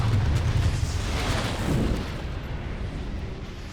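A staged explosion effect for the TV show Bodyguard erupts in a loud, rumbling blast that fades into a long, dull roar, with no voices.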